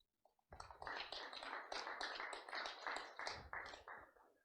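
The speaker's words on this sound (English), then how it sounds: "So let's give a warm hand of applause for everyone" Applause from a demo day audience at a startup pitch event, starting suddenly after a near-silent moment and continuing as fairly close, moderately dense clapping for about four seconds before thinning out.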